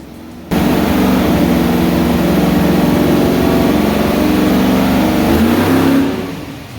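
A Pontiac 301 V8 in a 1968 Firebird racecar roars on a dyno, a loud sustained rev that holds steady for several seconds, then drops and fades away.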